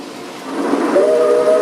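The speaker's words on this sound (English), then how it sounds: "This is quickly followed by a goods train through Samchester Upper." A whistle rises out of steady hissing rumble as a model railway goods train runs through a station. It is brief, close and fairly loud, with a sustained tone over the last half second.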